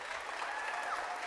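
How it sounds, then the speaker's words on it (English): Quiet, distant clapping from a school Christmas concert audience, a brief soft patter of many hands with a faint tonal trace over it. "give him a round of applause"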